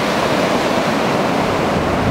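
Small ocean waves wash onto the sandy beach at Bolívar, Galveston, producing a steady, loud, rushing surf that fills the whole moment with no voices.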